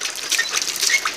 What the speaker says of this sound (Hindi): ये जी मैं पानी भरने लगा हूँ, ये नलके की मदद से बोतलों में।